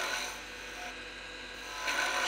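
Skew chisel cutting a spinning wood workpiece on a lathe, a steady close hissing rasp of shavings peeling off that dips slightly midway and swells again near the end, with no voices.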